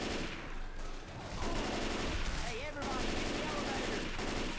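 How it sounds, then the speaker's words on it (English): Grenade launcher firing in Left 4 Dead 2 amid a dense, continuous barrage of gunfire and game chaos, with repeated sharp bursts layered over constant loud noise. "I'm trying to use the grenade launcher"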